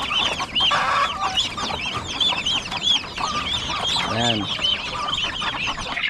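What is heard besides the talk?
chickens clucking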